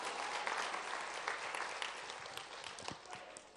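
Steady, full applause from a church congregation at a Sunday night evangelism testimony meeting fills the hall without a break, many hands clapping together at an even level from start to finish.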